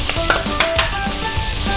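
Chopped capsicum is stirred into onions frying in a pan, giving a continuous close sizzle with scraping stirring strokes and light clinks of utensil against the pan.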